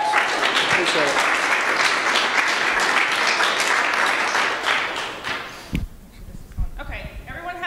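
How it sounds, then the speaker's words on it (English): An audience at a business event applauds in a sustained burst of clapping that fades after about five seconds, followed by a few thuds and faint voices. "Another round of applause."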